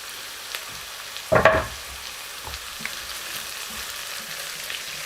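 Cherry tomatoes drop into a hot pan with shrimp and burst into a loud, brief sizzle, which then settles to a soft, steady frying hiss close by.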